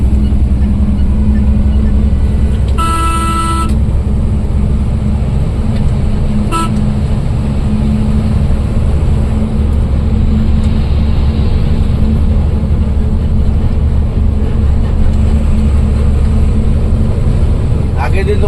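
Road traffic while being overtaken, a steady close engine drone with passing vehicles and a brief horn toot early on, continuous and fairly loud.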